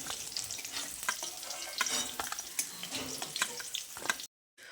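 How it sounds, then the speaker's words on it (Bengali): Paneer cubes fry in a mix of ghee and oil, with a soft, steady sizzle broken by light clattering as they are gently stirred, close up, before a brief cut to silence at the end. "এইভাবে হালকা হাতে নেড়ে চেড়ে পনিরগুলোকে ভেজে নিতে হবে"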